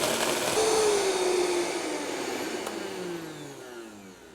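Blender motor whirs steadily while pureeing a thick raw taco-tamale filling, a loud continuous drone with a slowly falling pitch that fades somewhat toward the end, no voices.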